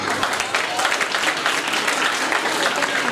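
Audience applause at an Islamic educators' school student event, a dense, steady wash of clapping from many hands lasting throughout, with some voices mixed in.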